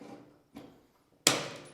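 A hammer gives light taps on a galvanized standing seam metal roofing panel: two soft knocks followed by a sharper, louder ringing strike, close and alone.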